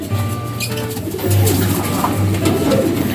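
Racing pigeons coo close by in low, throaty, repeated calls, with a busy background of other birds and rustling.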